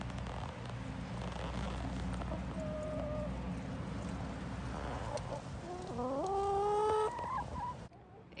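Chickens cluck and murmur softly nearby over a low background hum, with a few rising, drawn-out calls toward the end.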